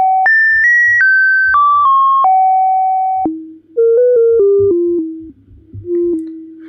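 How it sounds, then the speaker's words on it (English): A Moog Model 15 modular synthesizer's self-oscillating filter, fed only a little noise with no oscillators, sings clean sine-like tones that step down in pitch through a descending sequence, loud and alone, ending in lower wavering notes. "and then what you're hearing is just filter feedback"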